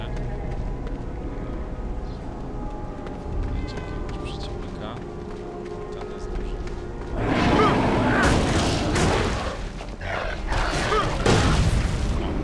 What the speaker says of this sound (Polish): I sprawdzimy nasz nowy atak, czyli sejsmiczne walnięcie.